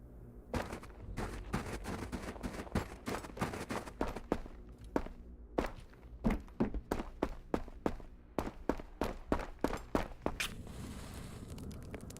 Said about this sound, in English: I think I hear footsteps.